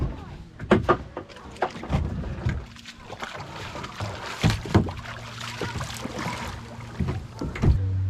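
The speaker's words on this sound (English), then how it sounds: "we are on Grundy Lake right now, and it is super calm, at least over by the main beach area, and we are going for a nice evening paddle" Paddles dip and splash as a boat glides across calm Grundy Lake in the evening, irregular close water strokes and drips under light wind, with a voice speaking intermittently.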